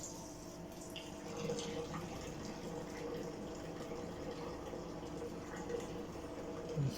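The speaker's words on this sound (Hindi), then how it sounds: "मशीन पानी निकाल रही है।" Water draining out of a Bosch front-load automatic washing machine under repair, a steady gushing, splashing flow that holds even and moderately loud throughout, with faint background voices.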